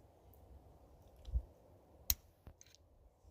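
A wiring harness connector on a first-generation Audi Q5 2.0T ignition coil snaps loose with a single sharp click, surrounded by a few faint handling taps and scrapes in a quiet space.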